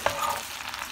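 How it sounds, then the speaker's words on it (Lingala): Red beans (madesu) frying in a pot without water after tomato paste goes in, a soft continuous sizzle with a brief stirring scrape at the start, close and fairly quiet. "tie nabandi kokalinga madesu na ngai"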